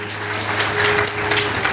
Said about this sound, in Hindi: सभी लोग जोरदार तालियां बजाएं